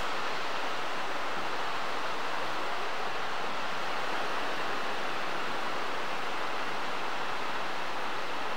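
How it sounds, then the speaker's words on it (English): Heavy rain pours down in a dense, steady broadband hiss, loud and continuous for several seconds without a voice. "You hear that rain? It's pouring the rain."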